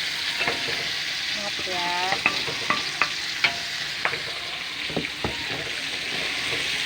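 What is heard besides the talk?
stir-frying noni leaves in a pan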